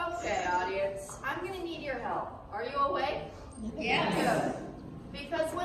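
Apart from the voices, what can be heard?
No distinct noise like a dog, phone or traffic.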